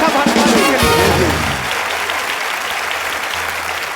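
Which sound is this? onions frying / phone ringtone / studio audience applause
studio audience applause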